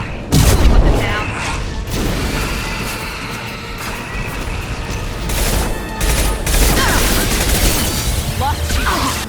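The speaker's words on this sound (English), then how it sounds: "Firing anti-ship batteries at collector vessel." Anti-ship batteries in Mass Effect open up on a collector vessel with loud, continuous battle noise: rolling booms and rapid volleys of fire under the din, while a voice speaks over the combat.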